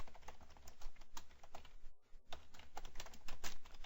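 Code being typed on a computer keyboard: rapid, close clicking keystrokes in an uneven stream, with a brief pause near the middle before the typing resumes.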